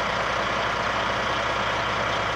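Truck-mounted vacuum pump running for an oil drum vacuum head, a loud, steady mechanical drone with a dense low throb, unchanging throughout.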